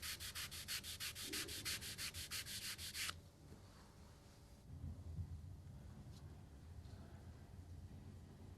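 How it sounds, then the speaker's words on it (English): Wet and dry sandpaper is rubbed gently by hand over a car's clear coat in fast, even back-and-forth strokes for about three seconds. The strokes then stop abruptly, leaving only quiet room noise. "note how gently Paul uses the wet and dry to avoid removing too much clear coat"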